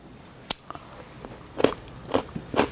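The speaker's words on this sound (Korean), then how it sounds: "아삭아삭합니다." Close, crisp bites and crunching into pickled carrot and pumpkin jangajji made with ginger, a few sharp snaps spaced through the moment with quiet chewing between.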